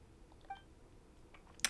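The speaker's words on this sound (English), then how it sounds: "Beep?" Short electronic beep from the video game Genshin Impact, a quiet blip followed by a brighter, sharper tone near the end, alone over a faint background.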